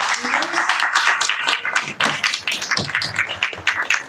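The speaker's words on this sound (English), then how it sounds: "I want to just give another round of applause to our students." Audience at a Lincoln County Republican meeting gives a round of applause for students, with dense, steady clapping and taps filling the room, some voices mixed in.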